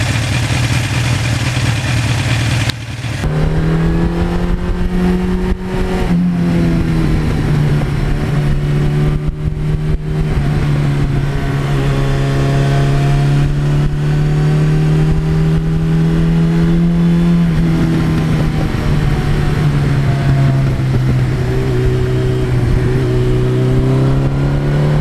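A 1982 Suzuki GS1100E motorcycle is ridden on a brake test, its engine droning steadily and loud with rises and dips in revs after a brief opening, no speech over it.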